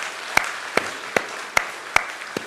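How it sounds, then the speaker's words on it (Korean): Church congregation applauding at a Sunday school graduation ceremony, a soft bed of clapping punctuated by evenly spaced rhythmic unison claps about every 0.4 seconds, steady and moderately loud. "도와주실 수 있는 분들은 크게 한번 박수로 받아내 주시기를 바래요"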